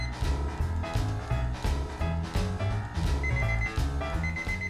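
A kitchen oven timer goes off after 40 minutes, sounding a steady, repeating pulsed ringing alarm that continues loud and unbroken with no voices.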